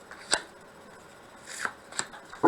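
Tarot cards are shuffled by hand in short riffling bursts, a quick flick and then a double rustle, close and crisp with no talk.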